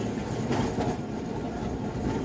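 A Kolkata tram rumbles steadily along its rails nearby near Mallick Bazar and Park Street crossing, with a continuous low roar and faint clattering from the wheels throughout.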